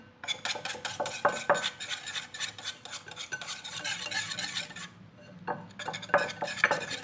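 A whisk clinks and scrapes quickly against a bowl as starch goes into a yogurt mixture, busy and close, with a short pause before the rhythmic tapping resumes.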